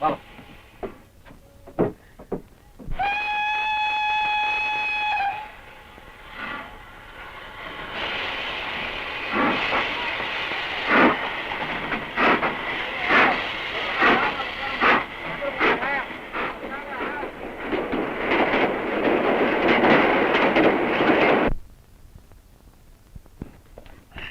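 A passenger train with compartments blows a long, steady whistle, then rolls on with a continuous hissing rumble and rhythmic clatter. The run is fairly loud and close and stops abruptly near the end.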